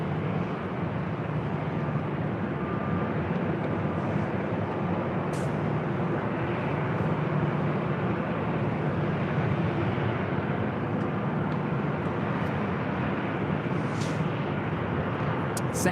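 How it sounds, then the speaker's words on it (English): A Southwest Airlines Boeing 737-700 at LAX, bound for Denver: a steady, broad jet engine roar throughout, fairly loud and unchanging, with faint clicks and no clear voices. "And this is Southwest Airlines Flight 2475 heading to Denver in a 737-700."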